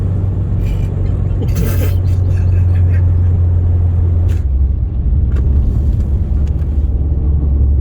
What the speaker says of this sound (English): We're doing 30 miles per hour in third gear.